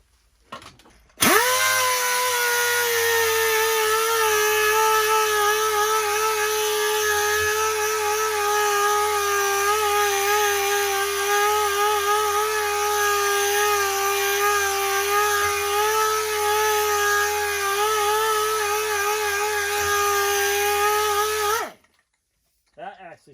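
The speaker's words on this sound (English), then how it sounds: "I'm just going to do a little sanding on this burl here" A steady, loud whirring power sander with a 5-inch hook-and-loop sanding pad runs continuously on a wood burl for about twenty seconds, starting and stopping abruptly, with a constant droning pitch.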